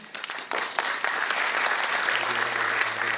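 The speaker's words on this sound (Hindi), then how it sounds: "अभी आपने तालियां बजाया" Audience at a lecture on the history of the Saraswati River breaks into sustained, loud applause that swells quickly and keeps going steadily to the end.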